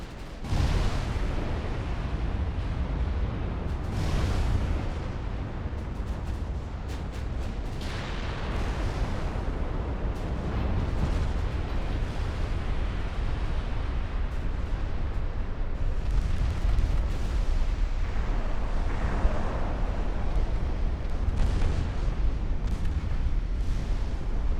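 Naval artillery gunfire in a video game battle, with battleships firing on a light cruiser: continuous rumbling booms and explosion bursts layered over each other, dense and sustained without clear pauses.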